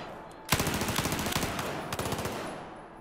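Rapid automatic gunfire in Battlefield 4 rattles in a dense, loud burst of closely spaced shots after a brief quiet start, continuing steadily before tapering off.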